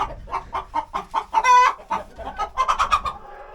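Chickens out of their chicken tractor pecking at a high-protein feed blend give a steady run of close, rhythmic clucks, with one longer tonal call midway and a quicker burst of clucking near the end.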